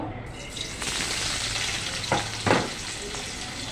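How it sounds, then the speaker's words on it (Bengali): Potatoes frying in oil in a pan while cooking a curry, a steady close sizzle with a couple of louder stirring bursts near the end; no talking. "একটু তেল দিয়ে তার মধ্যে আলুটা ভেজে নিব"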